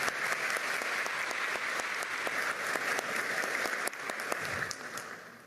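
Steady applause from an audience for a retired Peruvian National Police officer at a government palace medal ceremony, sustained dense clapping that tapers slightly at the end.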